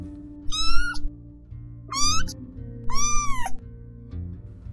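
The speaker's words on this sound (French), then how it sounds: "Je me mets à pousser une série de miaulements vindicatifs" Domestic cat giving three loud, close, drawn-out meows in succession, each rising then falling, over a low steady background hum.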